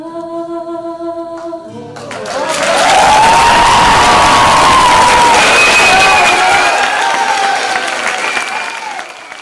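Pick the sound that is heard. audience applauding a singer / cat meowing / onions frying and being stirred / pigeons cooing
audience applauding a singer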